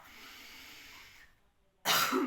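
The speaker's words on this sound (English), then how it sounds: "Really feel your cough opening you up." A single loud, harsh cough bursts out near the end, following a stretch of quiet breathy background.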